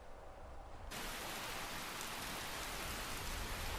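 Medium rain falls in a foggy Skyrim game environment, heard as a continuous broadband hiss of rain on surfaces that starts softer and swells abruptly into a fuller, steady downpour after about a second.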